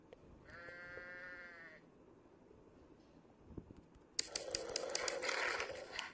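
A single wavering video-game sheep bleat, fairly clear, followed after a pause by a burst of scraping and clattering noise with sharp clicks as a wolf attacks the sheep.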